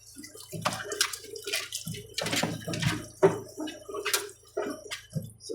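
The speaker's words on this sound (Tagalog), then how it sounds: "banlawan po natin itong mabuti gamit pa rin yung ating foam na tinanggalan po natin ng sabon" Water splashing and dripping as a motorcycle helmet is rinsed with a foam sponge, close, in uneven bursts of pouring, squishing and trickling.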